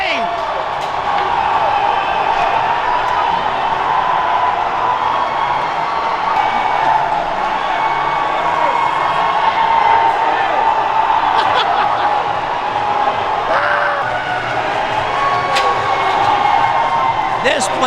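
Sustained loud roar of a high school hockey crowd celebrating a game-winning goal on senior night, dense cheering, shouts and scattered whoops filling the arena without letup.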